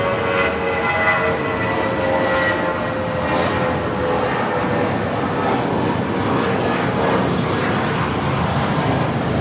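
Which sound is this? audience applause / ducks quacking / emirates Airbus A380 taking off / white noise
emirates Airbus A380 taking off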